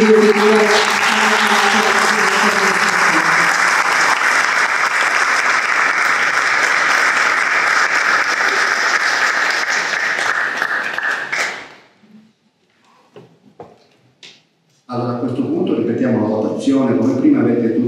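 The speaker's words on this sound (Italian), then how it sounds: "Chiedo un applauso per questi due figure." Audience at a town council meeting in Rivarolo Canavese, Italy, applauds in a dense, sustained burst of clapping that stops abruptly, followed by brief silence with a few taps and then someone speaking.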